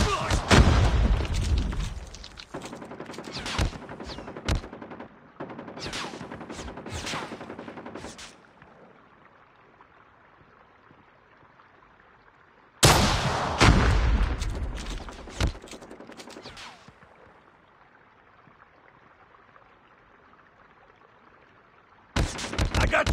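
Bursts of rapid gunfire in a Call of Duty match, loud and dense, in two long volleys separated by quieter stretches, with another burst starting at the end.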